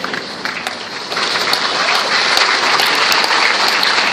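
Loud, dense applause from a church audience during a sermon, starting somewhat softer and swelling into full, sustained clapping after the first second.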